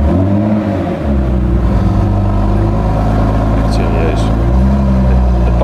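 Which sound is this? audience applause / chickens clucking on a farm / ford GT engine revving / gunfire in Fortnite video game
ford GT engine revving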